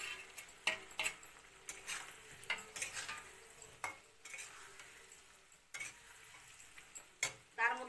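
Potatoes and spices being sautéed in a pan for fish-head muri ghonto, with irregular spoon scrapes and clinks against the pan over a faint, low sizzle.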